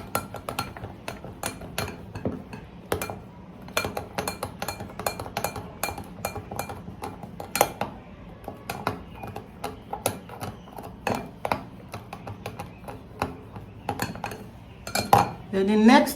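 Spoon clinks repeatedly against a glass while mulberry is stirred into a drink, a steady run of close, bright metallic taps with a few louder knocks near the end.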